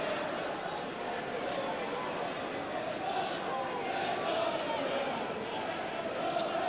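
A large football crowd at Nottingham Forest versus Liverpool in 1984 gives a steady, distant stadium roar and murmur throughout, with a voice talking over it.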